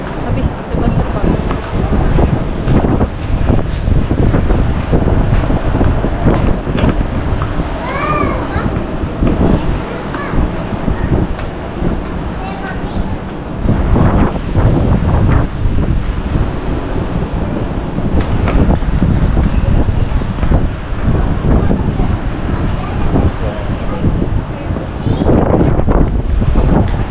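Steady heavy wind roars across the microphone outdoors in Alor Setar, constant loud buffeting with children's voices and chatter heard faintly beneath the gusts.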